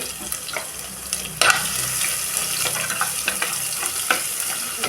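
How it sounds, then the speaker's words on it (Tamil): Crushed garlic goes into popping mustard seeds in hot oil for a tomato rasam, giving a dense continuous sizzle with crackling pops and a few louder spatters and stirring scrapes, close and with no voices. "கடுகு பொரிஞ்சிட்டு பூண்டு தட்டி வச்சுக்கிறேன், போட்டுக்கிறேன்"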